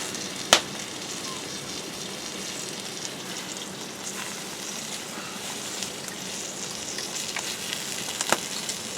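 Sausages sizzle in a pan over an open fire outdoors, giving a soft, steady crackling hiss throughout, broken by a couple of sharp pops or clicks, faint and close with no talking.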